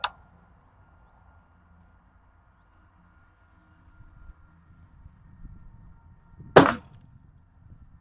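A Millbro M16 air rifle fires one pellet with a single sharp, loud crack in an otherwise quiet setting with faint background rustle.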